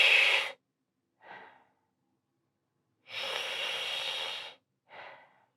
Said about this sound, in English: You can make a sucking noise as you breathe this way